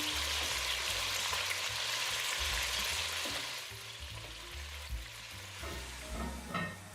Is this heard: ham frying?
yes